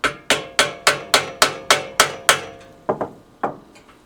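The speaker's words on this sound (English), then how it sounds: "that's what we're going to use to put even pressure on the whole bearing as we tap it into place" A bearing being tapped into place on a French horn rotor: about ten sharp, close metallic hammer taps, the first eight evenly spaced and the last two coming more slowly, each ringing briefly, with no talking.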